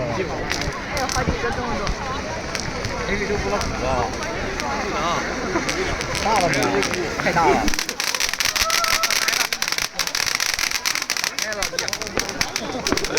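Rapid crackling bursts of New Year firecrackers in China go off continuously, loud and close, with a dense popping texture and voices mixed in underneath.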